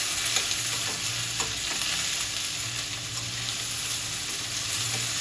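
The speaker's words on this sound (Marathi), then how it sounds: "आणि कांदा आपल्याला एकदम ब्राऊन कलर होईपर्यंत परतायचा." Onion for a chicken keema sizzles in a pan while a spoon stirs it with scraping clatters, a steady close frying hiss throughout with no talk.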